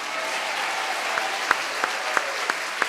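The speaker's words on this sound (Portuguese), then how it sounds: "Aplauda mesmo, aplauda mesmo." A church congregation applauds during a homily, a close, steady patter of clapping with a few sharper claps standing out, no talking.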